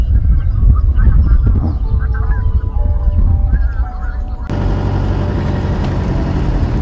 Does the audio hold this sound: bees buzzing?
no